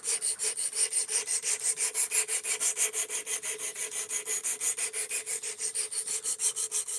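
An Elmax powder-metallurgy steel knife blade is drawn over a sharpening stone in quick, even rasping strokes, about four per second, close and steady with no talking.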